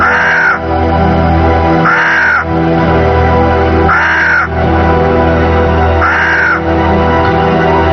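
A crow caws four times in a slow, evenly spaced rhythm, each harsh call loud and close over a steady low background hum, with no talking.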